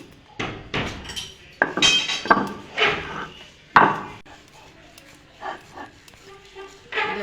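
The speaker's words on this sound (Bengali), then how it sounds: "শিলে এভাবে বেটে নেব, বেটে এবার নাড়ু করব।" A coconut mixture for narkel naru is ground by hand on a stone shil slab: a series of uneven, close scraping and knocking strokes of stone on stone, some louder than others, with no voices.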